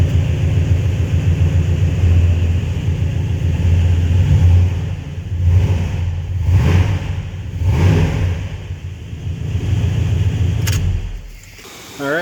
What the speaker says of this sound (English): I guess we'll give you a quick little rev.